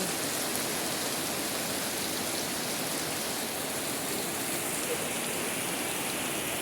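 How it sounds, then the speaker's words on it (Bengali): Morning rain pouring steadily over a village in Tangail's Madhupur area, a dense, even hiss of drops on surfaces with no pauses and no one speaking. "গ্রামের বৃষ্টি দেখে নেন কি অবস্থা"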